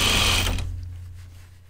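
A sewing machine stitching stretch denim for jeans runs in a loud close burst, then stops abruptly, leaving a low hum and faint handling noises.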